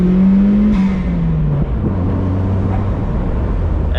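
Turbocharged Mazdaspeed Miata accelerating hard from inside, a loud engine drone rising then settling with a gear change around one second, steady throaty pull close by.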